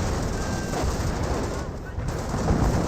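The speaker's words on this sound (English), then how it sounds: "Seen a bit of fire from the Bren guns." Dense battlefield gunfire from Bren light machine guns in the real-time strategy game Company of Heroes, a continuous loud rattle of overlapping shots with distant battle noise and faint talk underneath.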